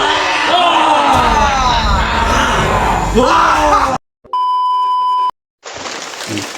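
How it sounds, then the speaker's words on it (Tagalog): A group of people yell and shout together in a loud, chaotic burst during an attempted hypnosis stunt, followed by sharp electronic beeps with brief silent gaps between them. "Sigawan niyo para malinlang ang utak niya!"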